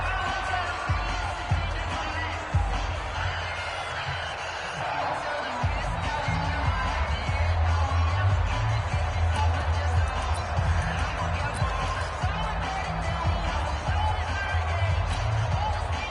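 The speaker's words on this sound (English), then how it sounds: "The crowd here in the dome making things difficult." Stadium crowd roars inside a domed arena during a late-game football moment, a loud, continuous wash of cheering and noise that swells midway, with an announcer talking over it.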